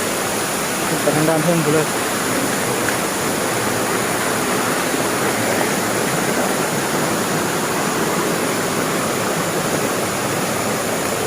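A waterfall at a Phu Thai village in Ban Muang Sum, Bualapha, Khammouane, Laos, gives off a steady, dense rushing roar that never lets up, with a voice briefly speaking near the start.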